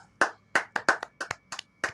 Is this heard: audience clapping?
yes